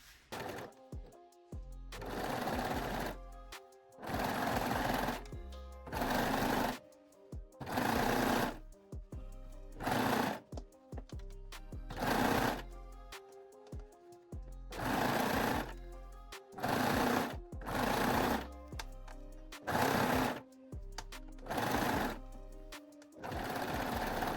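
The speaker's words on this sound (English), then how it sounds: "sew both armholes and also the neckline using zigzag, 3-step zigzag or your cover stitch machine" A cover stitch machine sews the armholes and neckline of a sports bra in repeated rapid bursts of stitching, each run a few seconds long, separated by short pauses, close and clear.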